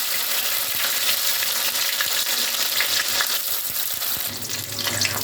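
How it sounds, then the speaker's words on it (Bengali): Raisins and cashews frying in a pan for Bengali sweet Basanti pulao, giving a steady close sizzle with light stirring clinks throughout, no talk. "কিশমিশ আর কাজু বাদামটা একটু ফ্রাই করে নিয়েছি"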